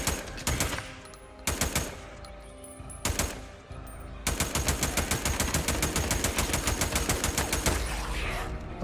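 A Steyr AUG 5.56mm bullpup assault rifle fires in Days Gone, first in several short loud bursts, then in a long sustained stream of rapid automatic shots.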